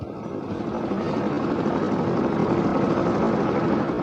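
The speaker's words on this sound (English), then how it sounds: "The helicopter took off and climbed slowly into the sky." A helicopter engine runs with a loud, steady rotor roar that builds slightly in the first second and then holds, close and without voices.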